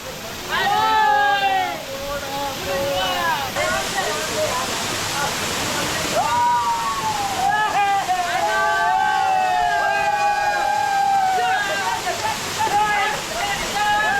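Vangani waterfall roaring steadily as a broad, continuous rush of water, with excited voices shouting and calling over it throughout.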